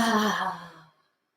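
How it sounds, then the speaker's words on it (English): One deep exhale through an open mouth during a guided breathing exercise, close and breathy, fading out after about a second. "And open mouth, exhale"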